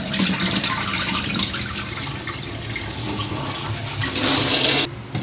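First rinse water from washed rice for tinola poured out, a loud, continuous rushing, splashing stream of water that swells near the end before stopping abruptly.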